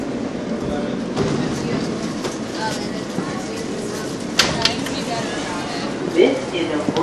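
Rumbling New York subway E train noise with rattling and clanking, broadband and steady throughout, while a recorded announcement voice speaks over it.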